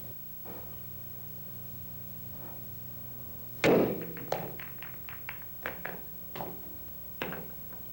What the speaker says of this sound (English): hit down on the cue ball, have the cue ball to fight through here, make contact with each one of these balls, and pocket the 8-ball in the side pocket